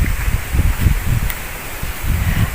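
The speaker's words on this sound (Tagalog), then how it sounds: "Ayan guys, mahangin dito pala" Gusty wind rushes and rustles through leaves in uneven waves, fairly close, with no voices over it.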